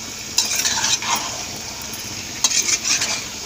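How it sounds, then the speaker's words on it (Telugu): Country chicken curry (natu kodi pulusu) is stirred in a pan, with two bursts of scraping and gentle sizzling separated by a quieter simmering pause. "మొత్తం తిప్పుకోవాలండి."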